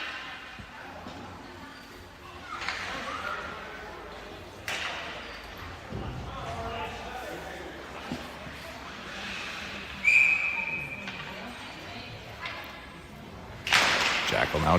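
A referee's whistle blows for offside during a youth ice hockey game between SDP Selects teams, a sharp brief tone standing out around the middle of the clip over arena crowd noise and commentary.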